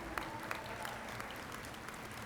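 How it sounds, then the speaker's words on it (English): Steady applause at a college commencement ceremony, a faint, even patter of many hands clapping with scattered sharper claps and no voices. "that deserves a round of applause."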